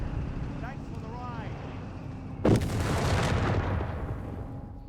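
An artillery strike from a Bishop self-propelled gun in Company of Heroes 3 lands as one sharp, loud blast with a long rumbling tail. It sits over steady battle ambience with faint whistling sounds before the impact.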